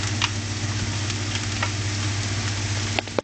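Onions soften in a pan over gentle heat, giving off a steady, even sizzle with faint scraping ticks from stirring and a couple of sharper clicks at the end.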